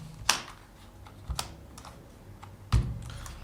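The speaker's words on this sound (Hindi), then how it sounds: "अब मैं एंटर करके इसको प्रिंट करता हूँ" A computer keyboard is typed on in a few sharp, separate keystrokes, including a heavier key press near the end, with no voices.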